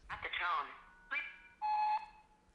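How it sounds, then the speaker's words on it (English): Speech-like tones sweep briefly, then a flat electronic voicemail beep sounds for under half a second near the end. "there's a keyboard shortcut that lets you jump directly to the beep like this"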